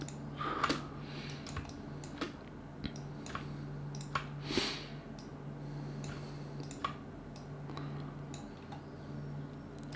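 Scattered sharp mouse clicks, some in quick pairs, tick faintly over a low steady hum while editing in Photoshop at a computer.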